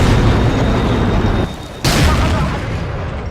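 A massive explosion in the war game Battlefield Iraq blowing the player's turret sky high, a loud roaring blast that briefly drops out, then slams back in with a sharp burst and rumbles away as it fades.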